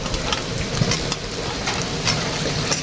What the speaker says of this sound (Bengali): দিয়ে এটা আমি ভালো করে নেড়ে চেড়ে একটু কষিয়ে নেব